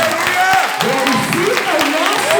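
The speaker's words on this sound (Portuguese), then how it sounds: "com as palmas bem mais fortes, adore ao Senhor que está neste lugar" A worship congregation at an evangelical deliverance service claps loudly and steadily, the dense clapping filling the space with a crowd murmur and singing or speech woven through it.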